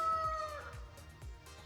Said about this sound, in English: We got that noisy rooster again.